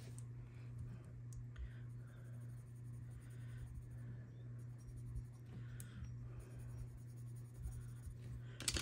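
Colored pencil scratching softly across paper in short strokes while blending shades, quiet and close over a low steady hum.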